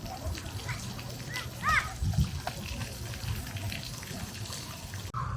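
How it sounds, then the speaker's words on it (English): Children's chatter and brief splashes and trickles of water rise from a small splash pad along a seaside pier promenade, with light splatters amid steady outdoor crowd noise. "Little splash pad for the kids"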